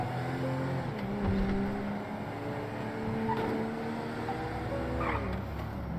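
A police car engine hums and shifts through revs as it drives along a busy avenue in the video game GTA V, steady and continuous at moderate loudness without talk.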